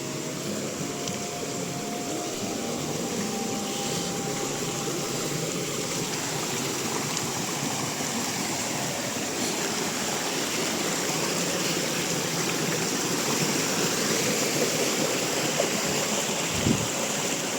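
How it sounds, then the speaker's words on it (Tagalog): A river flows over small falls, a continuous full rush of water close by with a steady unbroken texture and a brief low thump near the end. "Ganda po ng ilog."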